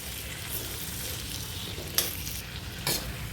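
Bitter gourd coated in masala paste fries on a low flame with a soft, steady sizzle. A couple of sharp stirring scrapes stand out near the end, and nobody talks.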